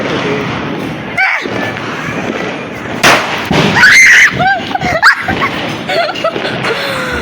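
Diwali firecrackers burst nearby in sharp pops and thuds, several loud bangs in a few seconds, with people shouting and talking around them.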